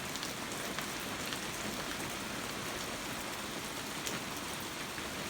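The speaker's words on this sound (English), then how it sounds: "I got a little rain out of that little cloud" Light rain from a small passing cloud patters steadily on surfaces outdoors, a constant even wash of drops with no voices.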